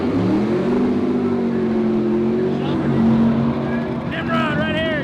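A funny car at Cordova Dragway roars steadily with a loud, sustained engine howl, heard from a distance at a drag racing event, with a few faint whistling or squealing tones toward the end.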